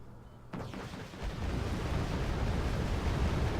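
Rockets slamming into a unit in a strategy game match: a sudden blast at half a second swells into a dense, sustained rumbling roar of explosions that carries on steadily to the end.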